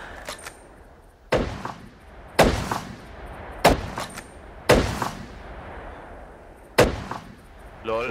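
Several loud hunting rifle gunshots in a deer-hunting video game ring out at irregular intervals, each sharp crack followed by a brief echo, over a low background.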